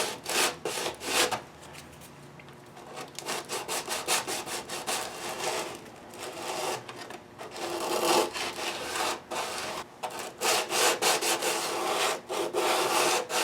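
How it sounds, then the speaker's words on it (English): 120 grit sandpaper rubs back and forth over lacquer stick filler on a guitar, making a steady, close, raspy scraping in rapid strokes that continues for several seconds without talking. "now we're going to switch over to the 120 grit. So here's a close-up of that 120 grit in action"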